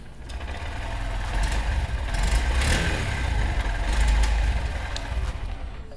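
A 2023 Honda SP125 BS6 motorcycle with a narrow exhaust, engine still cold, idling steadily with a low putter that swells slightly mid-clip, close by and with no talking.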